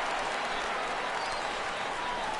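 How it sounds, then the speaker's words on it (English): A baseball stadium crowd in MLB The Show 16 murmurs and roars in a dense, steady wash of noise, with no single clear cheer standing out. "This crowd oohs and ahs every time this guy hits a fly ball."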